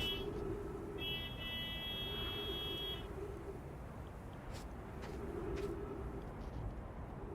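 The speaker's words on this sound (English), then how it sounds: "Why is someone honking out there?" In the video game Outer Wilds a car horn honks somewhere out in the distance, sounding a repeated two-part toot as a sustained buzzing tone over a steady windy rumble, with no voices.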